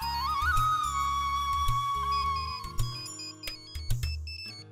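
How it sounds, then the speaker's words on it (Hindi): A mobile phone ringtone plays a bright melodic electronic tune with a steady bass beat, close and clear, with no voices over it. "दीदी आपका फोन बज रहा है"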